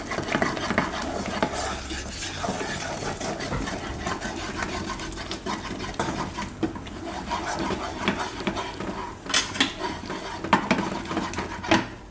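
Mixed veg khichu, a thick rice-flour dough, stirred vigorously with a rolling pin in a pot, repeated close scraping and rubbing strokes with occasional louder knocks against the pot's side.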